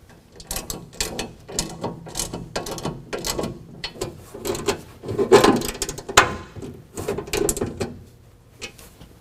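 Bolts on a bed-mount fuel combo toolbox being tightened with a ratchet give steady, close ratcheting clicks with metallic knocks and rattles throughout.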